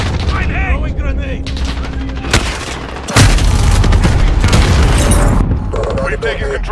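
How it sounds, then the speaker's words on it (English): A grenade detonates amid automatic gunfire in a Modern Warfare multiplayer match, with loud booms and rapid bursts of shots, and voices shouting over the din. "Throwing grenade!"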